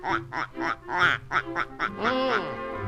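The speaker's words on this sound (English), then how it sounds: "lot of ducks out on the pond." Ducks quack repeatedly and close by, a steady run of nasal calls ending in a drawn-out quack; no talking.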